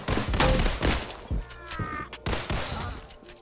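Glock pistol shots in the Roblox game Criminality crack out in several loud, close bursts, with a fast cluster early and more shots following at uneven intervals.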